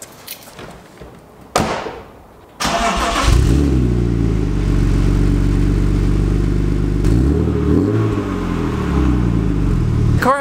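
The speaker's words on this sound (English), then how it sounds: "The car has a Dynan axle back on it right now and it sounds okay" BMW E36 M3 fitted with a Dinan axle-back exhaust starts up with a loud catch, then settles into a steady, close engine drone that rises and falls through several rev swells.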